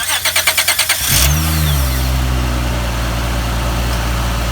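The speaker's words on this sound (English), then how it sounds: "we're gonna turn the engine on" A 2005 Honda Pilot engine cranks with a rapid series of starter whirs, catches with a surge, then settles into a steady, close idle.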